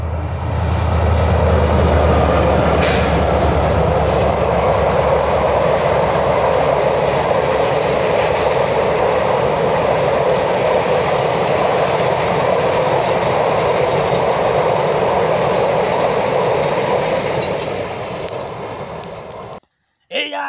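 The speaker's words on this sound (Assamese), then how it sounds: "ট্ৰেইন গাড়ীখন আহি আছে" A train rolls along a railway track, its loud continuous rumble and clatter holding steady for most of the stretch before cutting off abruptly near the end; no one speaks over it.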